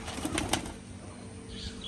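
A pigeon at a loft lifts off with a quick, close burst of wing flaps that fades within a second or two.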